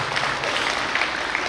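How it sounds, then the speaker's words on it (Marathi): An audience at a school annual function applauds to welcome newly elected councillors, a continuous, dense patter of many hands clapping at steady loudness throughout. "सगळ्या नगरसेवकांचं टाळ्या वाजून या ठिकाणी आपण सगळ्या जणांनी स्वागत करा"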